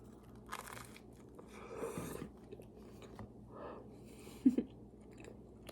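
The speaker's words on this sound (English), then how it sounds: "let's have some of our beans on toast" Someone eating beans on toast at a breakfast meal, with soft, close chewing and a few crunchy bites spaced unevenly over quiet room noise, ending with a sharper crunch.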